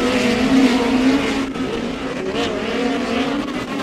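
Midget race cars roaring around the dirt oval at Airport Raceway in a POWRi West Midget League event, loud continuous engine drone with shifting pitch as several cars run close together.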